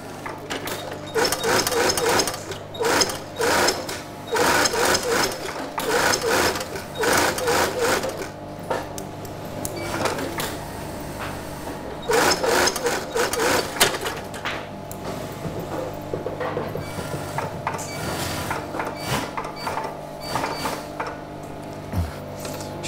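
An industrial sewing machine stitches the peak onto a Yorkshire flat cap in a workshop, with rapid rattling bursts of stitching separated by short pauses and handling noises, close and loud.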